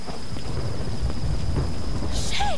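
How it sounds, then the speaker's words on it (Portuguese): Thunder rumbles steadily through a storm in the Tomb Raider video game, a continuous low roar with rain hiss and a few brief high chirps near the end. "Ela acordou com um barulho de montanhas do trovão"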